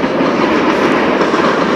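A train passes close by near a football stadium in Romania, a loud, dense rumble with rhythmic clickety-clack of wheels on rails, continuous until it cuts off abruptly.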